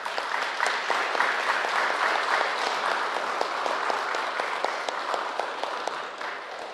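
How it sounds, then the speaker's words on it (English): A crowd applauds steadily and warmly, dense clapping sustained throughout with no voices standing out. "Y'all give her a big round of applause."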